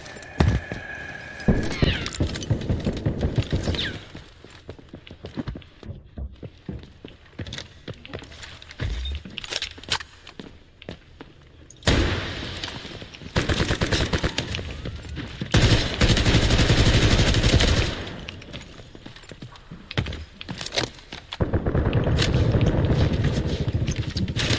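Gunfire in a video game, heard through an ROG gaming headset, comes in sharp bursts and loud sustained volleys, with quieter stretches of footsteps and small clicks between them.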